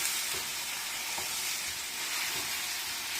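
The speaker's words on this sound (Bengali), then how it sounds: "ডিমগুলো একটু ভেজে নিলাম" Eggs fry in a hot pan with a loud, even sizzle and hiss that holds steady from start to finish, close up and with no voices.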